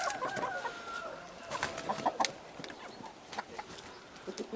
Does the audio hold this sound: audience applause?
no